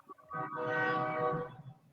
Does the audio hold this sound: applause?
no